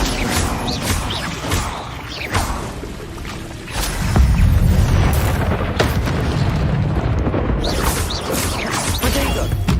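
The Incendio fire spell is cast in the Hogwarts Legacy video game, producing loud booming fiery blasts with crackling bursts and a dense roaring rumble that swells midway.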